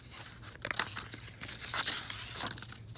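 Paper being cut and crinkled for a barn quilt pattern, with several irregular snips, rustles and crunching handling sounds close up over about three seconds.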